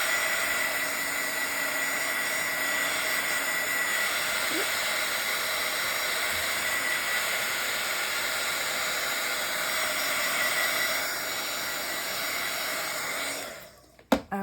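A heat tool blows steadily while drying paint on a Bible journal page. The hiss and whine are close and continuous for about fourteen seconds, then cut off with a click.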